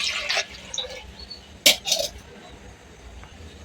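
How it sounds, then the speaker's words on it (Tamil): A short splash and gurgle of water poured into a pressure cooker for drumstick sambar, with a few light metallic clinks around it in a quiet room. "ஒரு சொம்பு தண்ணி ஊற்றிக்கலாம்."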